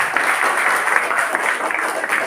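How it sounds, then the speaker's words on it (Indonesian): Children in a classroom clap together on the teacher's cue, a close, steady wash of many hands slapping that holds at an even level for a couple of seconds. "Iya, terima kasih, tepuk tangan."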